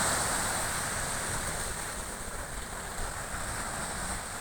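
Black Sea surf breaking on the shore at Adler in early March, a steady, full wash of waves with some wind, loud and continuous with no voices.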